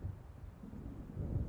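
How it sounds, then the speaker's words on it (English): Low, rumbling thunder of an approaching storm in the game Alan Wake, a deep distant roll that swells slightly toward the end, heard alone without voices. "It seems there's a storm coming."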